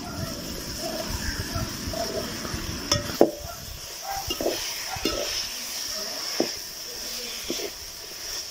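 Pumpkin palya with salt and turmeric is stirred in a pan, soft scraping and gentle sizzle with a few sharper clinks of the spoon against the pan, fairly close, with no talk over it.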